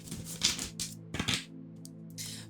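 Tarot cards riffled and shuffled by hand in short, crisp bursts of papery flutter, close and fairly quiet over a steady low hum, with pauses between shuffles.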